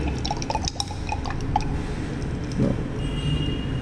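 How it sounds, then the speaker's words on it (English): Salt solution of ammonium chloride shaken vigorously in a glass test tube, giving soft sloshing liquid sounds with faint glassy clinks, close and fairly quiet over a steady background hum. "Shake a little bit vigorously."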